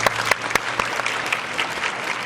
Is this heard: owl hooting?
no